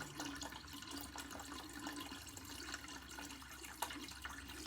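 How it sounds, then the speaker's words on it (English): A bell siphon drains an aquaponics grow bed planted with basil above a goldfish tank, giving a steady gurgling, rushing flow of water. The sound is continuous and fairly faint, with a few small splashes. "That's pretty much a full flush, which means of course that the water level in here is going down."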